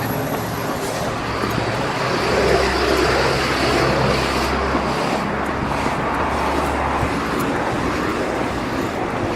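Steady road traffic passes close by, a continuous loud roadway roar with engine rumble from cars and larger vehicles swelling as they go past, heard from a runner's position beside the road.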